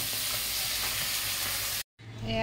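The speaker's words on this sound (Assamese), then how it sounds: "অলপ মাছ ভাজি আছোঁ" Kanduli fish frying in oil in a pan, a steady close sizzle and crackle that cuts out briefly and then returns, with no talking over it.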